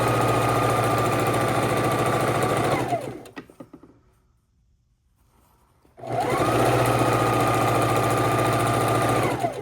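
A sewing machine stitches a long straight quilt border in two steady, close bursts of motor whir and needle chatter, with a brief quiet pause and faint handling noise between them.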